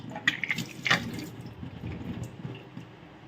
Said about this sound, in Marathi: पाणी आलेलं आहे आमचं बघा इथं मोटर लावते मी हा पिण्याच्या पाण्याचा नळ आहे